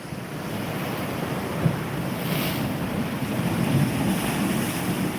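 Sea waves washing steadily along the shore, a broad continuous surf wash with wind buffeting the microphone and a couple of slightly louder surges.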